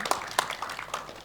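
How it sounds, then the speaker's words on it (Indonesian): Sparse, light clapping from a small audience at an Indonesian tourism dialogue forum, a handful of separate claps spread unevenly across a brief, fairly quiet stretch. "Boleh tepuk tangan untuk ketiga narasumber kita"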